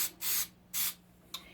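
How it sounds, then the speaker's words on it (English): Coconut oil cooking spray hisses onto a bagel pan in three short bursts, two longer blasts and a final quick puff, close and crisp with quiet pauses between. "So we're going to spray it just with some coconut spray."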